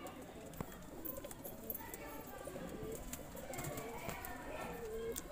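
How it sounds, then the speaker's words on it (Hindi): Domestic pigeons coo softly in a coop, low murmuring calls repeating under steady background noise with occasional sharp knocks and rustles. "ये देखो मकोए कलसरे कबूतर"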